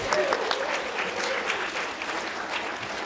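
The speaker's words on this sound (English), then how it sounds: "Let's give a round of applause to the collaborators." A crowd applauds steadily, a dense wash of clapping hands that holds at an even level throughout.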